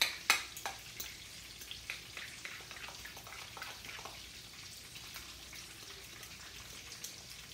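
Potato salad dressed with mustard is stirred together in a bowl: quiet, wet squelching and soft scraping with small irregular ticks, louder at the start and then settling into a gentle steady rhythm, with no voices.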